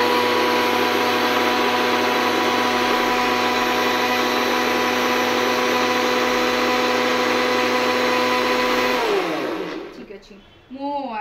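A blender grinds curd, water and sugar into lassi with a loud, steady motor whine held for several seconds, then winds down and stops, followed by faint handling noise.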